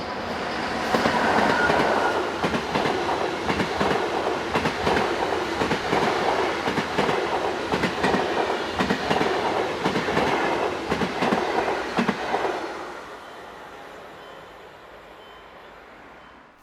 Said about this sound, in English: Exiting the tunnel just west of Aarau station platforms is 460-088 on a service